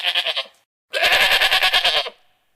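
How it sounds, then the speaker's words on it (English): A goat bleats in two loud, wavering calls, a short pulsed one followed by a longer, harsher quavering bleat after a brief pause, heard alone and close. "Goat."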